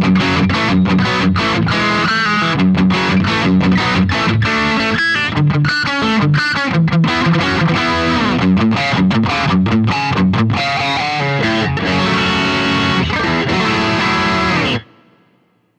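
An electric guitar riff runs through a BOSS GT-1000 processor on an AIRD amp distortion setting, loud and close. The driven, chugging notes play continuously for about fifteen seconds and then cut off abruptly.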